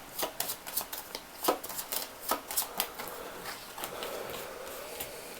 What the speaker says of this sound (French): je vais battre les cartes